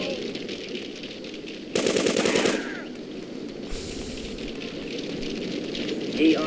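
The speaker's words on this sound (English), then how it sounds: "Machine gun." Machine gun fire in the PC video game GTA 2, a dense rattling burst in the middle standing out over a constant noisy game soundscape.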